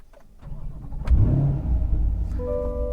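Chevrolet C8 Corvette started with its push button, the engine catching with a loud, close surge and settling into a deep, steady idle.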